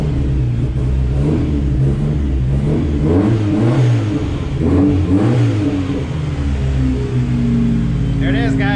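A Mitsubishi Mighty Max pickup with a swapped 4G63 engine and a freshly repaired transmission seal revs in loud rising and falling bursts close by, over a steady idle rumble, with a brief voice near the end.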